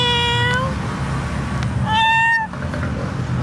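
A cat meows twice, two clear, close, drawn-out calls about a second apart, over a low background rumble.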